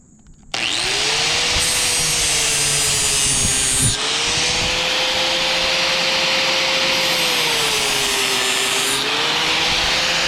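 An angle grinder sharpens a lawn mower blade, running as a loud, steady, close whine with a continuous rough grinding hiss that starts abruptly and holds throughout, the pitch wavering slightly as the tool moves along the edge.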